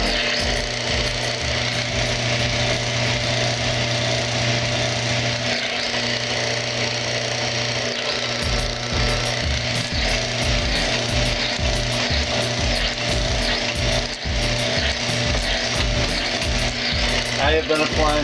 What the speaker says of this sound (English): You can literally watch the machine go up and down as I apply pressure on it.